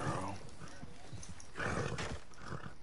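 A horse in the video game Red Dead Redemption 2 gives loud, rough snorts and whinnying bursts, close by, with a voice talking over it.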